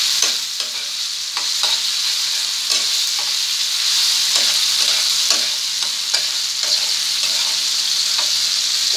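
Masala pasta with green beans and chillies being stirred and fried in a pan, a steady close sizzle broken by regular scraping strokes of a spatula, with no talking.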